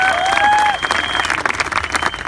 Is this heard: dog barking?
no